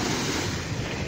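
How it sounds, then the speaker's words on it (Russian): A dense, roaring wash of strong Sea of Azov surf on a sandy spit fills the clip, loud and constant, mixed with buffeting wind. "Волна такая сильная."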